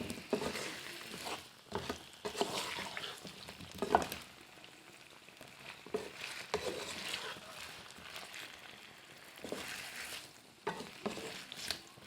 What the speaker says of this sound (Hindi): इस तरह से थोड़ा सा हमने इनको फ्राई करना है।